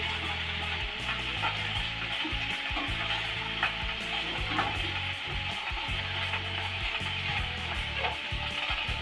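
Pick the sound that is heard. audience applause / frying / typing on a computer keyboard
frying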